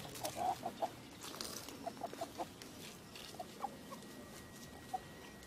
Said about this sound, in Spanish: Esos son todos los pollos grandes, gallinas, gallos.